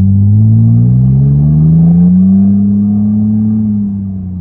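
A custom 2009 Nissan Maxima with a CVT and a 2.5-inch Y-pipe exhaust revving up, a loud, deep, close exhaust drone rising steadily in pitch, then holding and easing off at the end.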